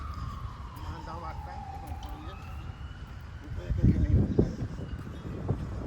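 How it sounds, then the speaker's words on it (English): A siren wails in the distance in Kissimmee, Florida, heard from a cemetery, its tone sliding slowly downward beneath wind noise and nearby voices. "You hear the sirens?"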